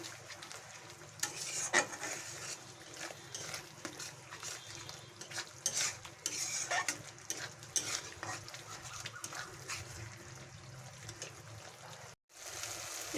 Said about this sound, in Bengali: এই সময় দইটা দিয়ে নাড়তে হবে ভালো করে